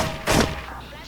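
Gunfire in a Special Force online shooter, a single sharp blast partway through, loud and close, amid busy game sound.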